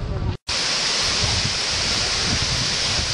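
A waterfall at Jiuzhaigou pours with a loud, steady roar of rushing water, broken only by a brief cut to silence near the start before the dense noise resumes.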